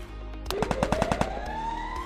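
A rapid burst of about ten shots from a Thompson gun in the Free Fire video game, evenly spaced and fairly loud, over a rising whine and steady game background noise.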